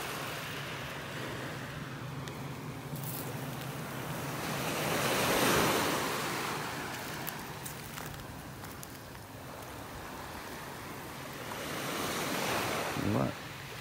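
Ocean waves wash steadily onto a beach in North Naples, Florida, loud and continuous, with surges of surf and wind buffeting the microphone.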